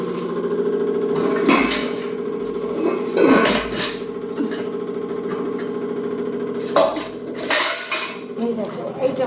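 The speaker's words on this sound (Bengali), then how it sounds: "চাল ভিজানো পাত্রটা খুলছি" A rice-soaking container being opened in a home kitchen, with several sharp clattering knocks and scrapes of the vessel and lid under a steady background hum, while someone talks throughout.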